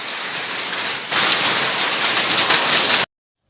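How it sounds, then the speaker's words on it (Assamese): Heavy rain mixed with hail pours down steadily outdoors, a dense close hiss that grows louder and rougher about a second in, then stops abruptly. "আকৌ হিল পৰিছে হিল পৰা শব্দ পাই পেলাই আকৌ বাহিৰলৈ আহিলো"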